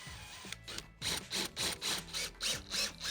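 A power drill drives screws through a shower wall flange into wood framing, giving a rapid string of short, close whirring bursts with brief pauses between them.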